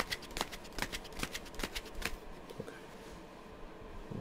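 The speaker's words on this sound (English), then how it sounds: "I'm shuffling the cards right now." Tarot cards are shuffled by hand close by, giving quick rapid riffles and soft slaps that fade to quieter handling near the end, with no talk.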